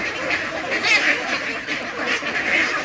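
Ducks quacking in a busy, continuous chorus, several birds overlapping close by with repeated nasal calls.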